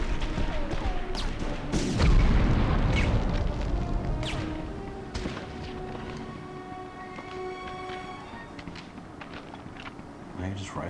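A rocket launcher blast in Medal of Honor lands as a heavy, booming explosion with a deep low thud around two seconds in, then a long rumbling decay under game ambience and scattered clanks.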